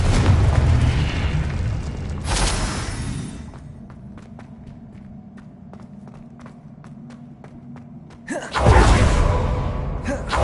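Confringo fire spell explosions in the Hogwarts Legacy video game burst loudly at the start and again near the end, with quieter rhythmic ticking steps in between.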